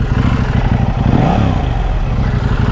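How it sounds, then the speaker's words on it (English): A KTM 790 Adventure motorcycle engine with the exhaust baffles removed, revving loud and close with a deep rumbling throb that swells and eases over a few seconds. "it's much more motorbike sound than the tendency of the 790 to sound a bit like a sewing machine"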